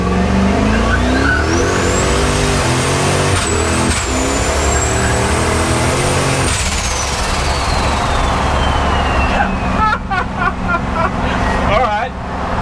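Aussie-built Ford F100 drift truck with boost, engine revving hard with a rising whine that climbs, holds and then falls away, loud and close, with voices talking over the tail end.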